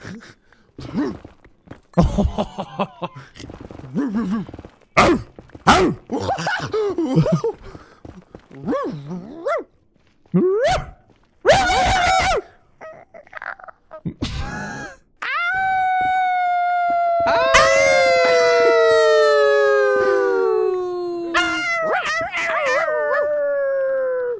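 People imitate dogs by voice, first with a string of short barks and yips split by pauses, then with a long, loud, wavering howl that slowly drops in pitch, recorded close up.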